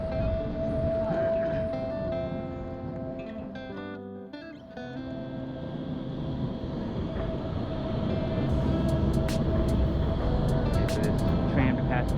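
A tram rumbles and whines past at Alexanderplatz, Berlin, with tonal motor hums and a brief quieter gap before the rolling noise builds again.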